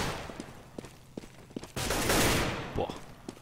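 Gunfire in Counter-Strike on the de_inferno map during a competitive EPS match: scattered sharp shots and bursts, then a loud dense volley around the middle, with a few further isolated cracks afterward.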